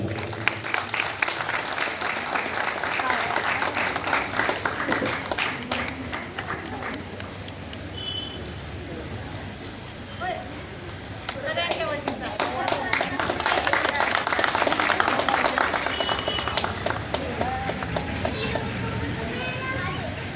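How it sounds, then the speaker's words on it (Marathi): An audience of women claps at a haldi-kumkum gathering honouring a town council president, a loose crowd applause that swells and fades across the stretch, mixed with chatter, children's noise and a voice on a loudspeaker. "आपण जरा जोरात टाळ्या वाजवायच्या"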